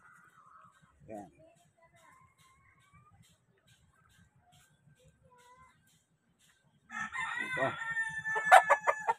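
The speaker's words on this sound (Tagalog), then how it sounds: "Ito may mga manok." Chickens in a Manila neighborhood, Tondo, with a rooster crowing loudly near the end after a mostly quiet stretch with faint clucks, while a person speaks briefly early on.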